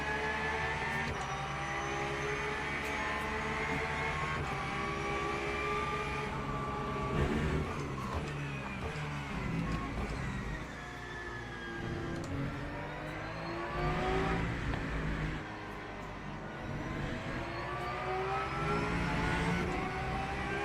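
An LMP3 prototype race car at Imola in a racing game, engine note rising and falling through gear changes as it howls past, steady loud mechanical drone with no talking.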